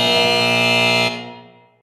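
A final-buzzer sound effect on a basketball talk show: one loud, rich, horn-like blast held steady for about a second, then fading away, heard alone with no talk.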